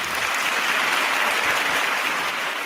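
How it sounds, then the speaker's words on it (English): A round of applause, dense and loud, sustained evenly across the whole stretch with no pauses. "That deserves a round of applause."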